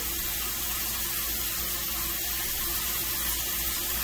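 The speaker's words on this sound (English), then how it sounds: "Spray a little olive oil on here." A steady, continuous hissing spray of olive oil misting onto a hot pan, filling the whole stretch at an even level.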